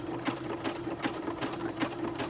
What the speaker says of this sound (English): Your sewing machine is going to function much more smoothly if you sew at a nice steady pace, but not too quickly.